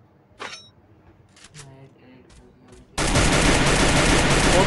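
Gunfire in a mobile battle royale video game: quiet scattered sounds and a brief voice give way to a sudden loud burst of continuous rapid fire that fills the last second and a half.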